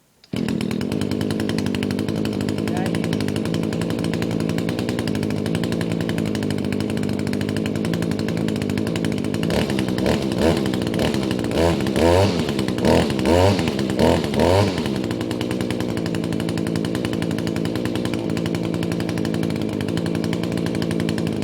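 Small two-stroke engine of a new Echo SRM225 string trimmer running steadily and loud throughout after a quick start, with a burst of rhythmic revving in the middle before settling back to a constant drone.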